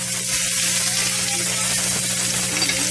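Steak searing in butter in a hot pan gives a steady, close, loud sizzle and crackle that holds evenly throughout with no talking.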